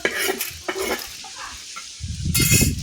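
Homemade spice masala roasts on a flat griddle over a wood-fired clay stove: a few scraping stir strokes, then a louder burst of sizzling near the end.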